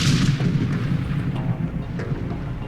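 Massive gunfire and heavy booming blasts in a Metal Gear video game form a dense, continuous barrage, loud and close, with sharper cracks standing out from the rumble.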